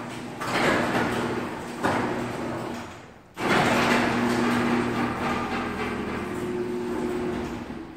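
A residential garage door runs with a steady mechanical rumble and rattle, pauses briefly, then resumes its drone for several seconds, heard close in a house garage with no talking.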